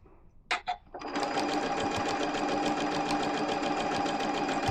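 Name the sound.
embroidery sewing machine stitching quilt block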